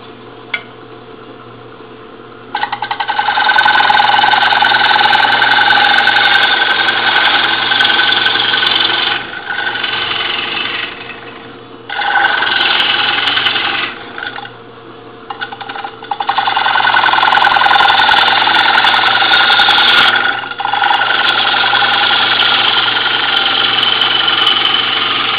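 A wood lathe turning an oak bowl while the inside is hollowed, a steady loud motor whine with a harsh scraping cut that drops away and resumes several times, close and without talk.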